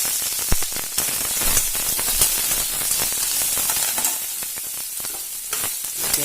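Tomato chutney ingredients frying in hot coconut oil, a steady close sizzle with crackling pops and spoon stirring throughout, no voices.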